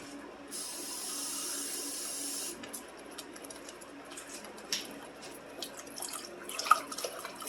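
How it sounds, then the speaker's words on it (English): Water poured into a pot of Haitian rice and beans sauce on high heat, a steady close splashing stream for a couple of seconds, then scattered soft drips and clinks. "We're going to add some more water."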